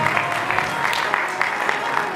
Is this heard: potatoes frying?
no